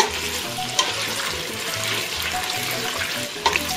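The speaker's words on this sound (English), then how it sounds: "All right, sauteed it quite a bit." Vegetables being sautéed in a pan for a pompano kakavia fish stew, giving a steady close sizzle and crackle with a few sharp clicks of stirring.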